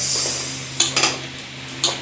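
Mustard and fenugreek seeds drop into a dry pan for roasting, giving a few sharp, close clatters and light rattles against the metal.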